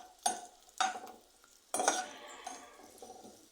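Sliced onion and two green chillies frying in oil, with a few sharp clattering stirs against the pan over a faint, intermittent sizzle, close by.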